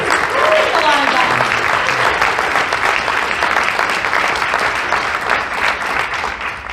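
Steady, sustained applause from an audience, clapping evenly throughout without pause.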